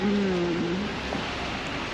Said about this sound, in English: We yet again have come to another city and yet again it's raining.